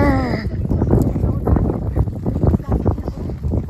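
Wind gusting across a summer lake at Aröd, rushing and buffeting close on the microphone while people talk over it.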